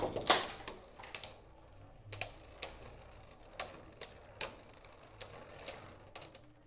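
Beyblade Burst tops, a Draciel Viper among them, clash in a plastic stadium: sharp irregular clicks and ticks repeat about every half second, faint and close, with no talking.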